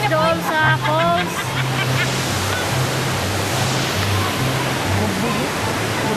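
Mantayopan Falls roars as a loud, steady wash of falling water close by, with people talking over it at the start.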